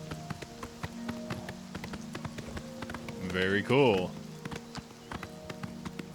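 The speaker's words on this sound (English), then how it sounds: "The horse can sprint too." Horse hooves clatter in a quick rhythmic gallop in the video game Oblivion Remastered, moderately close, with a voice briefly talking over the steady hoofbeats.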